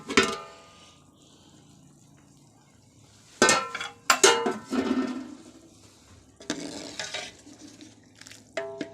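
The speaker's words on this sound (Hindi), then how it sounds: "हमारे पानी में उबाल आ गया है तो हम ढक्कन उतार लेंगे" A pot lid lifted off boiling water while making chicken yakhni pulao: a few loud, close metallic clanks and scrapes of lid and pot, separated by quiet gaps with a faint bubbling hiss.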